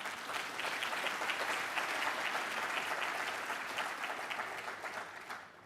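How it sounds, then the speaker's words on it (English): A lecture audience gives a keynote speaker a sustained round of applause, dense and even, tapering slightly toward the end. "May you give him a round of applause."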